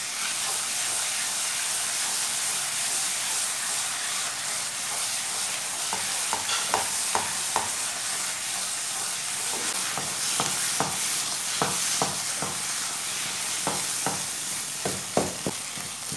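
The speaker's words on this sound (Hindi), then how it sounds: "इसे अच्छी तरह भून लें इसका कच्चापन पूरा ख़त्म हो जाए" Saag greens frying in a pan give a steady, close sizzle, with a run of quick, clicking spatula strokes stirring them through the middle and end. No one speaks.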